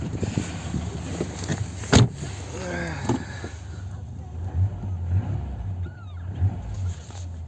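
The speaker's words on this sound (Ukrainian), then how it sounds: "Вихлоп собі переробив." A Ford Sierra 1.6 OHC, cold, idling on a Solex 2108 carburetor through a modified exhaust, a low steady rumble with small throttle blips and a sharp knock near the start, while someone talks over it.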